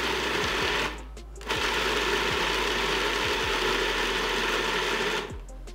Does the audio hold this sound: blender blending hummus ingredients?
yes